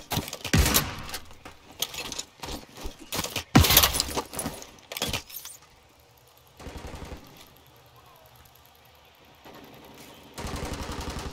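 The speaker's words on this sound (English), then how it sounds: "Changing mag." A weapon magazine change in Modern Warfare III during a hardcore team deathmatch on the Rundown map: metallic clicks and rattles follow loud bursts of rapid gunfire, then quieter handling noises close by with distant shots.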